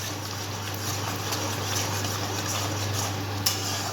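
Spices being stirred and mixed in a pan while preparing doi katla, a Bengali fish curry, with steady scraping and clinking of a utensil against the pan over a constant low hum, no talking.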